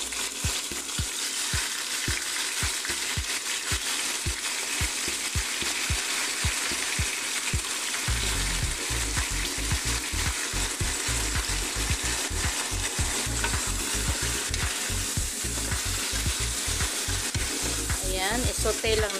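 Chicken pieces sizzle and fry in a pan with onion, garlic and ginger, with steady crackling and intermittent stirring scrapes, loud and close, no talking.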